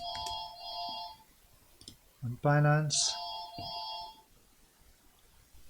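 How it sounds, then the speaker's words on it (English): A phone ringtone plays in a room, a repeating electronic melody with short beeping bursts, moderately loud, while someone talks over it. "Just ignore that phone just now."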